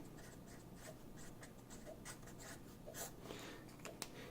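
Pen or marker drawing a diagram of dissolving and dissociation during a chemistry lesson on solubility, a run of quiet scratchy strokes in uneven bursts, close and faint, ending with a sharp tap.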